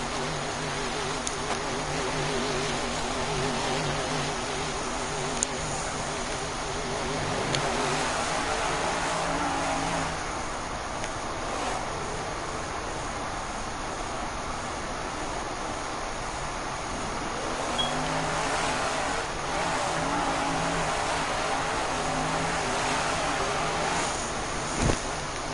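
The stunt truck Willman in the Monster's Revenge game idles with a low engine rumble that holds steady at a moderate level for a long stretch.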